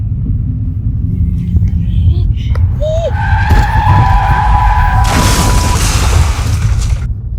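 A car with failing brakes skids on a snowy road near farmland and a railway track, sending up a loud scraping rumble and a rising squeal under a low engine drone while a voice speaks briefly.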